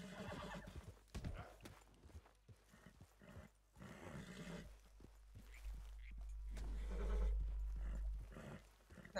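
A frightened horse neighs and whinnies in the video game Red Dead Redemption 2, loud and close, with hoof clip-clops and low rumbling game sounds underneath.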